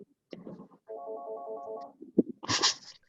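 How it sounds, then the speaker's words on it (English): A telephone rings during an online meeting, a steady tonal electronic ring for about a second, followed by a short burst of brighter sound, with near-silent gaps between. "I haven't had the interruption of the phone before."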